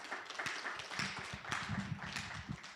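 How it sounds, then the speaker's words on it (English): Audience applause for a speaker at a university research and innovation forum, steady clapping from a crowd in a hall, moderately loud and continuous with no voices over it. "A round of applause to her, please."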